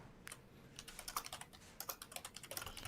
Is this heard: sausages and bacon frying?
no